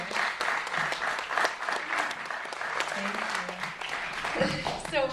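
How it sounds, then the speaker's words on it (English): An audience at a film premiere Q&A in a Wilmette theatre applauds the filmmakers, with sustained, even clapping from many hands filling the room and a brief voice near the end. "I would really love us to give a round of applause to our filmmakers up here"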